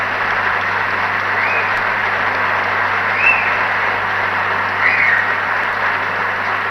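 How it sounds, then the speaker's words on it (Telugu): Steady, loud audience applause filling a hall at a government insurance MoU signing ceremony, sustained dense clapping throughout with no pauses. "పెద్ద ఎత్తున మీరు చప్పట్లతోని వారిని అభినందించండి."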